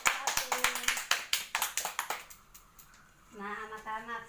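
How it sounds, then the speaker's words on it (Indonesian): Schoolchildren in an elementary classroom clap for a student group, a loose burst of rhythmic hand claps up close that tapers off before a teacher speaks. "Tepuk tangan untuk kelompok 1."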